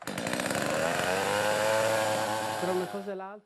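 A chainsaw, used for building a log house, runs loud and close with a steady high buzzing drone, then throttles down and settles toward a lower idle at the end.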